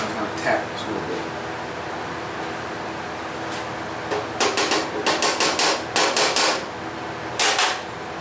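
A hammer taps a metal arm piece in a workshop, giving a series of sharp metallic knocks in two quick clusters over steady background hum.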